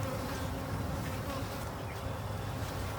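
Honeybees inside a hive produce a dense, continuous buzzing drone that stays steady and close throughout, with no voices over it.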